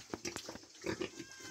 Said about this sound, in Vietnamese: Lợn đang ăn này.